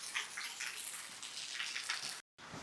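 Light rain patters softly and steadily, a faint sprinkle of scattered drops on a surface with no voices. It cuts out briefly just before the end.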